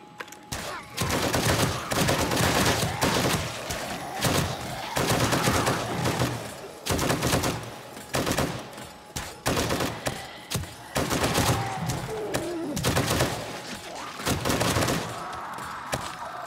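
Rapid bursts of gunfire from a loaded 120-round weapon in 7 Days to Die, sustained automatic fire with short pauses between volleys, loud and close throughout.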